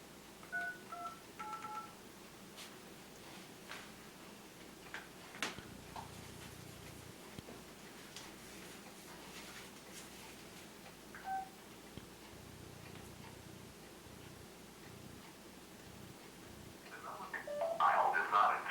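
A telephone number is dialed on a keypad, giving short bursts of DTMF tones near the start and again at the end, over a faint, noisy line.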